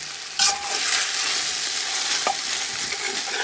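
Carrots stir-fried in a pan for chicken noodles, a steady bright sizzle with soft stirring scrapes throughout, one sharper clatter near the start and another midway, no voices.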